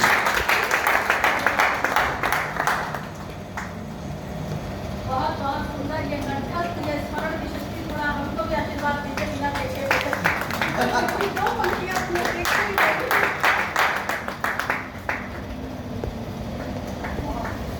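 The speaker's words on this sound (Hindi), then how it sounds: "सभी लोग कृपया ताली बजा दें।" An audience at an all-India Hindi poetry recital bursts into clapping, with a dense round of applause at the start and a second swell later. A stretch of tonal, music-like sound sits between the two bursts.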